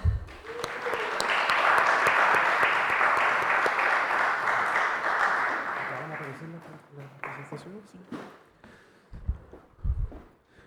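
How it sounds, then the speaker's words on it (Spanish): Audience applause fills a theatre at a keynote on leadership and governance in the performing arts in Lima, a dense sustained ovation lasting several seconds before fading into scattered claps, shuffling and a few voices. "Recibámoslo con un aplauso."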